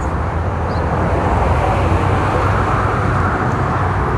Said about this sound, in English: There's so much traffic that is passing.